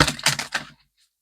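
Tarot cards shuffled close up in a quick burst of papery riffling snaps lasting under a second, then silence.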